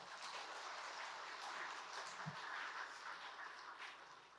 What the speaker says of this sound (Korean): 우리 하나님 앞에 영광의 박수를 한번 올려드렸으면 좋겠습니다